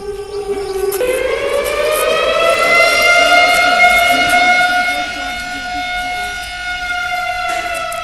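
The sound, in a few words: dam flood warning alarm siren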